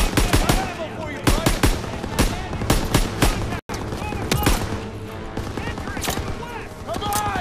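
Rapid, loud bursts of machine gun fire in the World War II shooter Call of Duty: WWII, dense overlapping gunshots crackling continuously through a chaotic battle with shouting voices mixed in.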